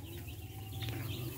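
A brood of seven-day-old young rooster chicks peeps and clucks softly inside a gas-heated brooder, a continuous chorus of faint chirps over a constant low hum.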